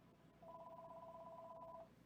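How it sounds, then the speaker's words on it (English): A mobile phone ringing, a single sustained warbling electronic trill lasting over a second, fairly faint against quiet room noise with no talking. "Oh, my phone's ringing."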